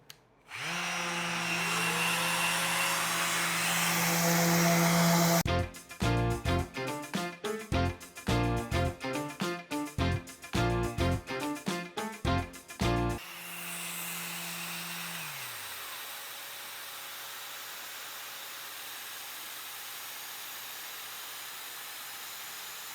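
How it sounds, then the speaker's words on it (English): A Harbor Freight Hercules dust extractor vacuum powers up with a loud, steady whine and hiss. Midway, its filter-cleaning cycle sets off a rapid series of sharp pulsing bursts, then it settles back into a quieter steady run as the motor winds down. "Vacuum's on."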